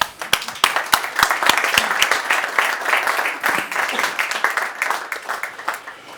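Audience applause fills a company presentation hall, a dense wash of many hands clapping with a few sharper claps standing out near the start, steady and fairly loud before easing slightly toward the end.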